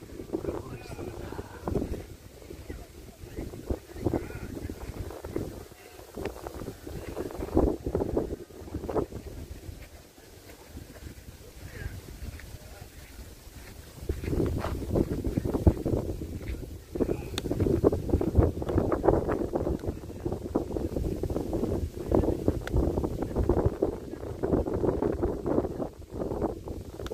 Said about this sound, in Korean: 시원한 바람도 이렇게 살랑살랑 이렇게 불고 있습니다.